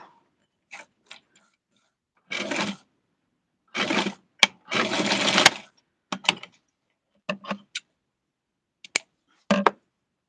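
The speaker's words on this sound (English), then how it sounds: "And it's falling apart, so I'm going to sew it." A home sewing machine runs in short separate bursts while stitching a Barbie doll dress, with several longer whirring runs and quick clicks and taps between them at close range.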